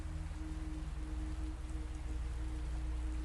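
Steady rain falls in an even, unbroken wash of drops on surfaces, soft and close, with a faint low hum running beneath and no talking.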